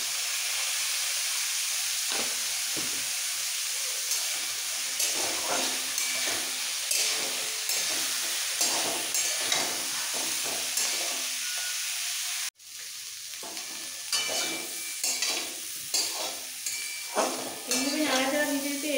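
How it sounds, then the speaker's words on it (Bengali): Jackfruit pieces seasoned with salt and turmeric fry in a pan, a continuous sizzle with repeated scrapes and stirs of the spatula over nearly twenty seconds, and a brief cut partway through. "এইভাবে নাড়াচাড়া দিতে দিতে এঁচোড় খুব ভালো করে ভাজা হয়ে গেছে"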